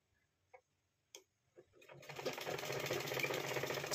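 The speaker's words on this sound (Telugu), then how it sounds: "ఈ లైన్ మీద ఒక స్టిచ్ చేసుకోవాలి" A sewing machine stitching a blouse: a few separate clicks and taps at first, then a steady fast whirring run of stitches that builds and carries on to the end.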